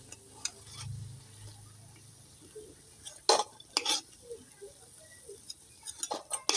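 Fried lachha semai pakoras are lifted out of a pan with a metal utensil, giving sharp scraping clinks and knocks against the pan in uneven bursts over a faint sizzle, close and moderately loud.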